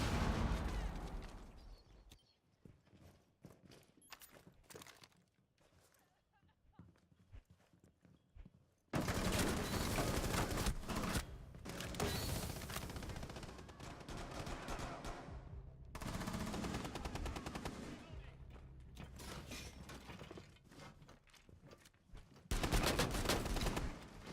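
Gunfire in a Rainbow Six league match, with rapid automatic bursts and shots fired back into a hallway, loud dense volleys separated by quieter stretches of faint movement.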